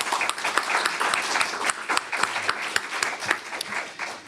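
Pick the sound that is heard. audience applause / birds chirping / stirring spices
audience applause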